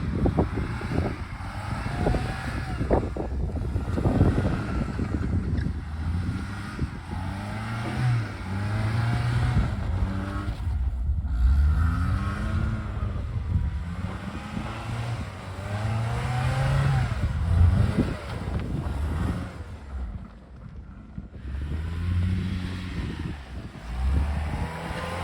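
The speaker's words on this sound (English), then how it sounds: "get the car turning, then floor it to break the back tires loose" A 1997 Toyota RAV4 fitted with a Torsen limited-slip rear differential turns tight circles, its engine revving hard and rising and falling in waves as the rear tires break loose, loud and continuous throughout with no talk.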